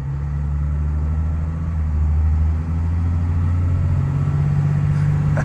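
Dodge Cummins turbodiesel pickup engine rumbling steadily from inside the cab while driving, a loud low drone with a slight rise and dip in pitch and no talking.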